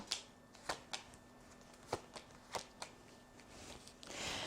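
Tarot cards being shuffled and snapped down in a quiet room, a series of crisp riffles and taps at irregular intervals, with a faint steady hum behind.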